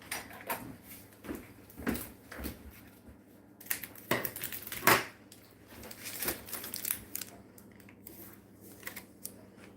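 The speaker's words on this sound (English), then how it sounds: "I'm going to have to get scissors to clip off the end." Scissors snip at the end of a food package in a kitchen, with scattered sharp clicks and crinkling plastic rustles heard close, separated by quiet gaps.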